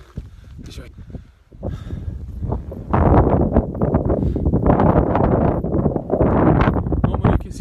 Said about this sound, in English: it's very windy, I hope you can hear me